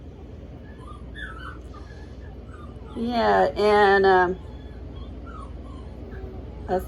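One-week-old puppies give a short burst of high, wavering whimpers and squeals lasting about a second, near and fairly loud, with a person briefly talking.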